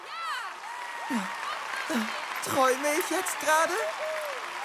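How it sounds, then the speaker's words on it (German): An animated tournament crowd applauds a newly crowned spinning-top battle champion, steady clapping running beneath excited voices that speak over it for the whole stretch. "Einen großen Applaus"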